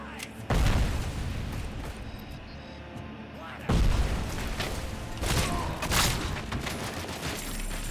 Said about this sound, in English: I shot that guy and he dropped his grenade.